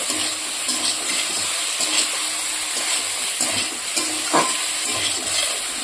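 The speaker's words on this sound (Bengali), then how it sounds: "এবার আমি একটু মটরশুঁটি দিয়ে দেবো।" Vegetables frying in a pan for a fish curry with green peas going in, a steady close sizzle and hiss with soft stirring scrapes and a few small splashy bursts.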